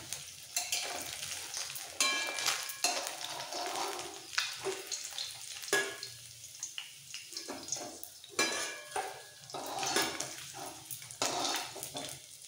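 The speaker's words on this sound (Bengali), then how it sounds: "তুলে নিয়ে বাকি মাছগুলো ভেজে নেব" Pieces of rohu fish sizzle and spatter in hot oil in a pan, with repeated scrapes and clinks as the pieces are turned, close and fairly loud with no talking.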